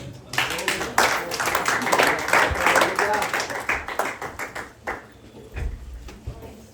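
Applause from a church congregation: dense, steady clapping that builds and carries on, with a few louder individual claps standing out near the end.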